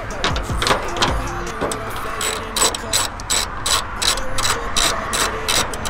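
A ratchet clicks rapidly in repeated bursts while bolts are backed out of a Mazdaspeed 3 hood scoop, close and crisp with short pauses between runs of pawl clicks.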